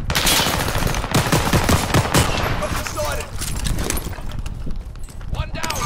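Rapid automatic gunfire rattles through a Call of Duty: Modern Warfare Resurgence match, bursts of shots dense and loud at first, then thinning out, with voices talking over the firefight.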